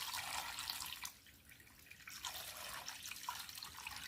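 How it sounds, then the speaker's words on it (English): Water running into a container to soak an old Florida Vacation Barbie doll, a quiet steady trickle and splash heard alone without speech, easing briefly midway before continuing. "I'm about to put some water in here for her"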